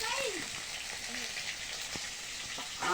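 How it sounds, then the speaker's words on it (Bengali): Fish frying in hot oil gives a soft, continuous crackling sizzle, fairly faint, with a voice murmuring briefly. "দেখো মাছগুলো ভাজি তো ভাজা হয়ে গেলে"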